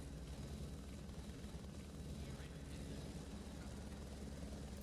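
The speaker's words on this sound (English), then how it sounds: "now we get the lovely sounds of the helicopter in our ear" A helicopter flies over a race at Laguna Seca, giving a faint, steady, rumbling drone with a dull, continuous thrum that neither rises nor falls over several seconds.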